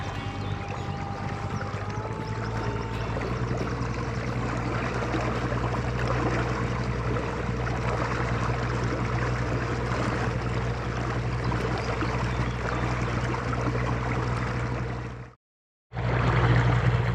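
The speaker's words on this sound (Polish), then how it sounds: "Tymczasem ja się pobawię jeszcze troszkę silnikiem." Haswing Protaur 65 lb electric trolling motor running on the Warta river, giving a steady low hum with water wash throughout. The hum cuts out briefly near the end, then returns, with no talking.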